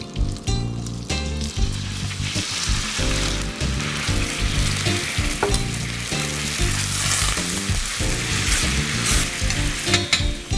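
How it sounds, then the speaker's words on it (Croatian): Melted butter and banana juice sizzle and fry steadily in a pan while flambéed bananas are prepared, a loud, close, continuous crackle with no talking. "U tavi smo rastopili maslac,"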